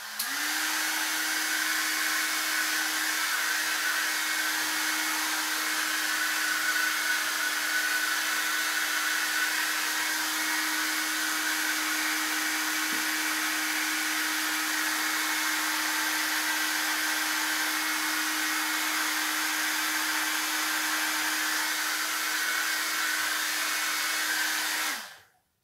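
A hair dryer drying a paper art page blows steadily and loudly with a constant whirring hum, running unbroken for the full length and cutting off at the end.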